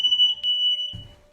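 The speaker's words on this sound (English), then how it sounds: "My neighbors done called maintenance because the smoke detector went off" A smoke detector sounds a loud, steady high-pitched electronic tone with a brief chirp partway through. A low rumble of background noise rises near the end.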